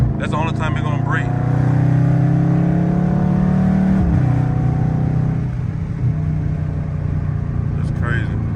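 A Dodge Charger Scat Pack driven in valet mode keeps up a steady, loud engine drone from inside the cabin, a low throaty hum that rises slightly under light acceleration, with brief faint sounds near the start and end.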